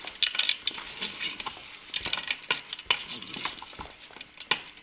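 Seafood cocktail for paella being stirred in a pan, with repeated scraping and clinking spoon strokes over a light sizzle, close and busy, no speech.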